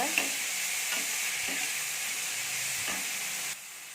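Tomatoes sautéing in a pan for chicken curry, giving a steady broadband sizzle with a few soft stirring scrapes, close and even throughout, with no voices.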